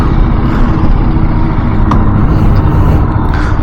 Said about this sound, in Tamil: இப்போ வந்து நம்மளோட வண்டிக்கும் இந்த பிஎம்டபிள்யூக்கும் ஒரு ட்ராக் ரேஸ் மட்டும் நீங்கள் பார்க்க போகிறீங்க